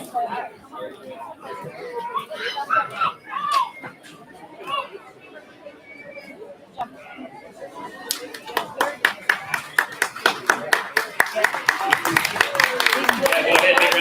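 A crowd at a county fair livestock market judging of heavyweight steers bursts into applause for the youth exhibitors, the clapping building to a loud, sustained roar. Before it, people chat and call out in the arena.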